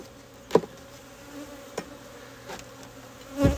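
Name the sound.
honeybees buzzing around an opened hive during inspection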